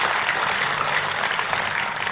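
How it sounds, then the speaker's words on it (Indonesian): A church congregation applauds during a sermon: a steady, dense wash of many hands clapping together, fairly loud and unbroken throughout, with no voices rising above it. "Oh, kalau tepuk tangannya meriah, saudaraku."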